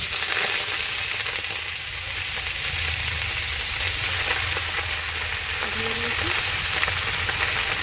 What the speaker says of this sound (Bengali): এই যে ধুয়ে রাখা এই খারফুলের ডাটা শাক সব একসঙ্গে এই যে দিয়ে দেবো দেখো